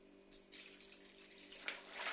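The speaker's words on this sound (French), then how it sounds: "J'ajoute maintenant de l'eau." Water poured into a bowl of chickpeas with garlic, salt and black peppercorns for soaking; a quiet, steady splashing trickle with brief brighter gushes toward the end.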